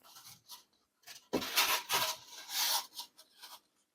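A blade sawing through a Styrofoam sheet while cutting a second packing layer for Yamaha NS-10M studio speakers, close squeaky rasping strokes in a short burst after a few light scrapes, with no talking.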